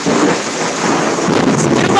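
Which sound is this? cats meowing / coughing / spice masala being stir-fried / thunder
thunder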